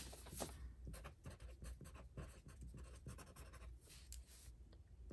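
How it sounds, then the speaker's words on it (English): A pen writes a name on a fabric pattern piece for a bridesmaid dress bodice. Quiet, close scratchy strokes come in short repeated bursts with small pauses between them. "I'm going to write her name on it."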